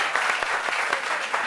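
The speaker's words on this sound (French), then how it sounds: "Applaudissements encore." An audience at a meeting on workplace sexual harassment applauds in a brief, steady wash of clapping with a few louder individual claps standing out.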